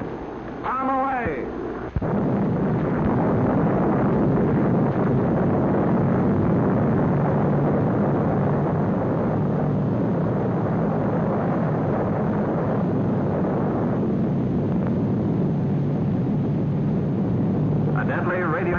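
An atomic bomb test explosion in a 1950s film, a brief narrator's voice followed by a sudden massive roaring rumble that sustains loudly for many seconds, like a long thunderous blast.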